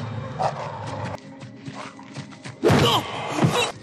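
Dog barks in a dramatic film scene, several sharp loud barks near the end following quieter thumps and muffled activity, with no speech.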